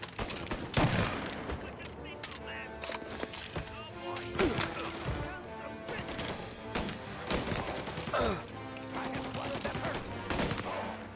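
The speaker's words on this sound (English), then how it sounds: "Reports of gunshots rolling in." Rapid bursts of gunfire crackle repeatedly in Mafia: Definitive Edition, with sharp shots and crashes layered over busy game sounds and occasional voices.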